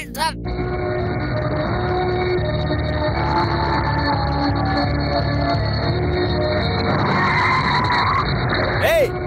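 A car skids hard to a stop with a long, loud tire squeal lasting several seconds, mixed with engine noise and dramatic film sound, ending in a sharp screech.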